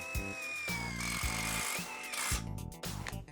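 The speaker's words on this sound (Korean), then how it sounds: "짧은 육각 나사 과연 어떤 느낌을 줄까요?" A cordless 14.4V impact driver drives a short hex screw into square steel tubing, giving a steady, close whirring burst with rapid hammering pulses that stops briefly and resumes in short bursts.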